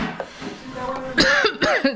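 A person coughs a few times in close succession, harsh and near, with a short throat-clearing sound before the loudest bursts.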